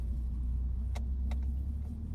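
Highway traffic heard while riding, a steady low rumble of vehicles with a couple of brief sharp passing whooshes, no talking.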